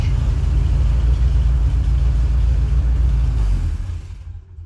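An old Jeep Willys engine running rich at a low idle gives a steady, close, loud mechanical rumble that fades away near the end.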